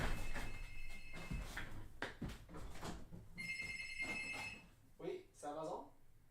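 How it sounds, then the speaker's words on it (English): A doorbell rings in a home with a sustained electronic ringing tone, heard mostly under a person talking. "I have somebody ringing at the door."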